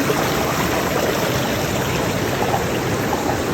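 A forest stream rushes over its bed near a temple in a large forest, a dense, continuous watery hiss and gurgle, close and steady throughout with no voices.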